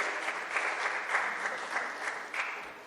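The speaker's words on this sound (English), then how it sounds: "Let's have a round of applause for this amazing conversation we had" Sustained audience applause at a fireside chat on Indian dentistry leadership, dense and steady with many hands clapping throughout, no voices over it.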